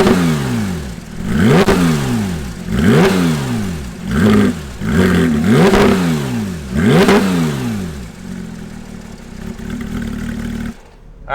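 A Porsche 911 GT3 RS's naturally aspirated 4.0-liter flat-six, heard at close range, revs loudly again and again, each sharp blip climbing toward a high scream and falling back, before it settles into an idle and cuts off.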